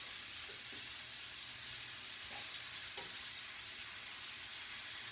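Pan-fried chicken sizzles in a skillet with a steady, fairly quiet hiss and a few soft scrapes as the pieces are turned.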